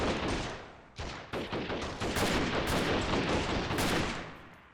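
Gunfire in the video game Freeman: Guerrilla Warfare, dense loud bursts of automatic shots with overlapping reports and brief gaps, close and continuous throughout without speech.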